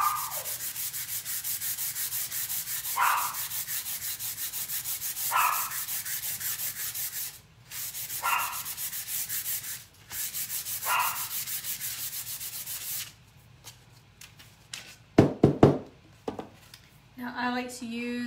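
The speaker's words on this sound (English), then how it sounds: "Now I like to use my little handy sander here." A small handheld electric sander distresses painted wood in a buffalo plaid finish, its steady buzzing rub running throughout with brief pauses, rising in short bursts, and a few louder knocks near the end.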